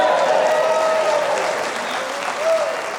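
Steady audience applause from a political crowd, dense and even clapping that holds at full strength for about three seconds without a break.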